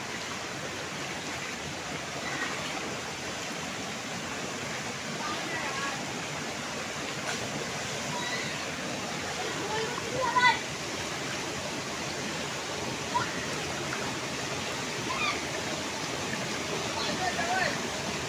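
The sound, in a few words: flowing water in the rain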